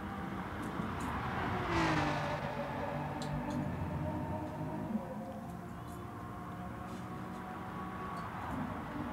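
Race car engines whine and rev around the Fuji circuit in a racing video game, a steady droning roar with rising and falling pitch as cars pass, continuous and moderately loud.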